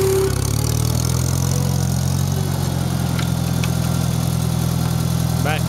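The engine of a 1973 IH Farmall 140 tractor runs steadily and loudly nearby as the tractor backs up in reverse, a constant low rumble throughout.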